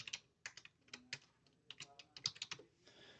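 Fingers tap quickly on a computer keyboard, a crisp, close run of uneven keystrokes with short pauses.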